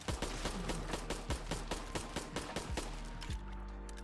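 HK USP pistol firing repeatedly at a Deathclaw in Fallout 4, a fast string of about a dozen sharp close shots in quick succession, then the last shot ringing out into a fading tail.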